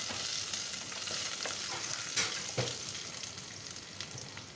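Browned onions fry in a pot as two bay leaves go in, a steady bright sizzle with a few stirring scrapes and soft clinks, close and continuous.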